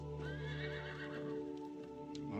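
Horses neigh and whinny in a scene from the 2002 film 28 Days Later, over a sustained musical score, with faint hoof clip-clop beneath; the calls are fairly loud and steady for the whole stretch.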